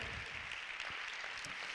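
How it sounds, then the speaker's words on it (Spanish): Church congregation applauding during a Spanish-language service, a steady wash of clapping throughout at moderate level with no talk over it. "Dale un aplauso al Señor, por favor, amada iglesia."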